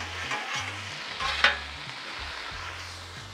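Birria taco ingredients sizzle on a Blackstone griddle, with a steady frying hiss close by and a few sharp scraping strokes from a spatula, no voices over it.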